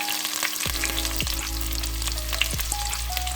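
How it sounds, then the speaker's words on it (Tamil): Loud, close sizzling of a chopped large onion sautéing in a pan for mutton biryani, with a few clinks and scrapes of stirring and a faint tonal hum underneath. "வெங்காயம் கொஞ்சம் வதங்கட்டும்"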